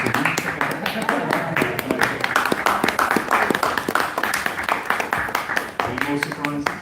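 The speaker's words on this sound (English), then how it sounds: "I think we should have another round of applause." Audience applause at a report-back meeting of a solidarity delegation to Israel, rapid overlapping hand claps running steadily throughout, mixed with voices talking.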